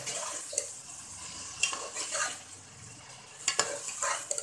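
Minced meat frying in a pan with ginger-garlic paste, a soft sizzle broken by irregular scraping stirs and a few sharper clanks of the spoon against the pan.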